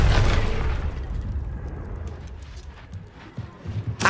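A Confringo blasting spell explodes in Hogwarts Legacy on PS5 with a loud, deep boom that fades into a rumbling tail, followed by scattered game effects and a second burst at the end.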